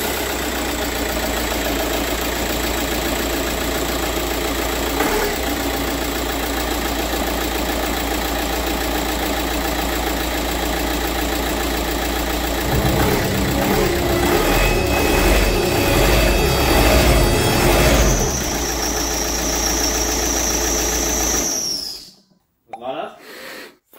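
An Audi A3 8P 2.0 TDI diesel runs at idle with its belt off, a steady close clattering drone with a thin high whine, rising briefly in intensity before shutting off abruptly near the end, with voices talking over it.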